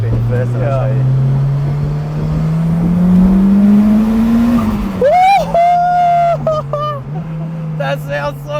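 Turbocharged Honda S2000 engine pulling hard under acceleration on a drive, a loud rising drone from inside the car that climbs, then drops with a shift, with a person talking over it.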